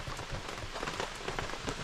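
Rain patters steadily on a surface nearby, with individual drops tapping through a soft continuous hiss; no voices.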